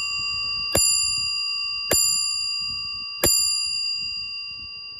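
Antique German wall clock with German movement striking its loud bell three times, each bright metallic strike ringing on with a long sustained decay, over a low background hum.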